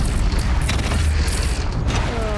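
A bridge in the action game Horizon Zero Dawn is blown up and comes down, a loud booming blast followed by heavy rumbling crashes and debris as the structure collapses.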